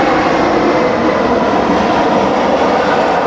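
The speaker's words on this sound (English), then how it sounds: "I got planes." Airplanes pass overhead near LAX airport, a loud, continuous broadband roar of jet engines filling the whole stretch without any voices.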